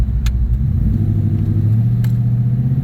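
A 1989 Mercury Grand Marquis engine revs in a loud, close, continuous rumble that rises in pitch and then settles as the transmission shifts, with no talking.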